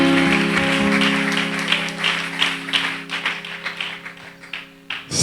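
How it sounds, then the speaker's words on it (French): Crowd applause at a school year-end closing ceremony. Dense, steady clapping fills the clip with a few sharper hand claps near the end, and a sustained musical tone hums underneath. "Sous vos acclamations, toujours. Faites un maximum de bruit"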